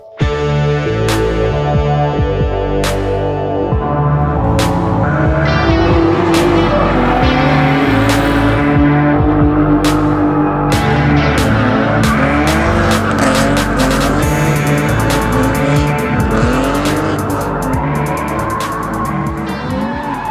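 A 1991 Nissan 240SX drift car with a 7.0-litre LS7 Chevy V8 and nitrous roars continuously at high revs. Its engine rises and falls through the pitch while tires squeal and skid throughout.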